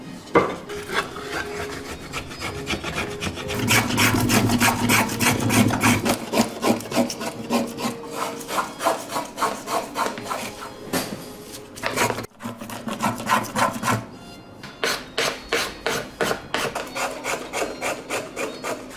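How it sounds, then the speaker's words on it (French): A curved wood plane shaving the back of a Stradivarius-model violin: close, rhythmic rasping strokes that come slower and heavier at first, then quicker and more regular, with no one talking. "Maintenant, je vais raboter avec un rabot bombé jusqu'à ce que je touche ma ligne partout."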